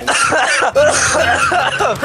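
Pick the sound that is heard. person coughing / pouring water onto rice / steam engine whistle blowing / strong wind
person coughing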